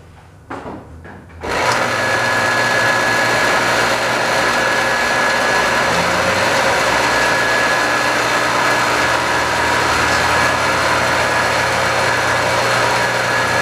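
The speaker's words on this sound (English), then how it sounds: "let's hook it up to its full 240 volt supply and see how it sounds" A scrap-saved single-phase electric motor starts up on a 240 volt supply and runs with a steady, loud hum and whine that holds constant after a few quiet clicks.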